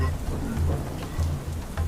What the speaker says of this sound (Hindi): आज मौसम बहुत अच्छा है, बारिश भी हो रहा है।